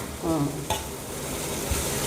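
Phodni tempering sizzling in a pan, a brief close crackle and hiss with a clink of a utensil near the start, then a steady quieter sizzle, with no voices.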